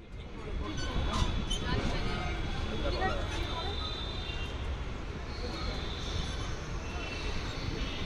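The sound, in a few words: train departing Naihati station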